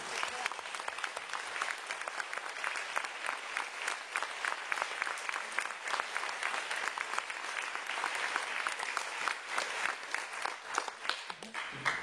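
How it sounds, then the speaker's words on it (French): Sustained applause from a large audience, dense steady clapping filling the whole stretch without pause. "je vous propose d'applaudir Antonella."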